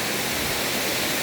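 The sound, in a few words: Dunumala waterfall in Gampaha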